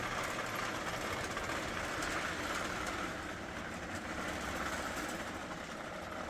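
An O27 gauge model train runs around a home layout powered from a marine 12-volt battery through an inverter, giving a steady, continuous rolling rumble and faint rail clatter with no pauses.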